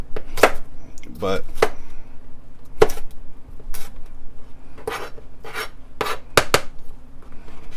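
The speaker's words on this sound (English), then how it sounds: "you want to chop these up so that you can add it to the mixture" A knife chops peppers and other vegetables for a stuffed pepper filling on a cutting board, a series of sharp, close, irregularly spaced knocks with scraping between them, and a brief spoken word.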